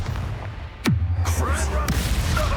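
Expulso explosion spell cast during a forced encounter with Ranrock in Hogwarts Legacy: a sudden swooping burst that drops into a sustained low rumble, with a second sharp hit shortly after.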